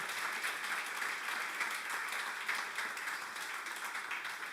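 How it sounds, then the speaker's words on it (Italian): Applause from a church congregation, a steady wash of clapping heard somewhat distant and fairly faint, running throughout without talk. "Possiamo fare una forte applauso per Lui."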